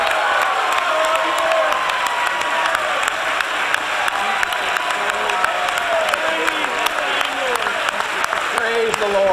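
A church congregation applauds and cheers steadily throughout, with dense clapping, scattered whoops and overlapping voices from the crowd.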